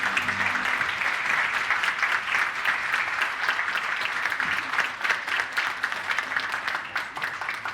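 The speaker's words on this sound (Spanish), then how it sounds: "Y el aplauso evidentemente para todo nuestro equipo de Genfar." Sustained applause from an audience at a pharmaceutical company's medical academy event, a dense wash of clapping that holds steady for several seconds without voices.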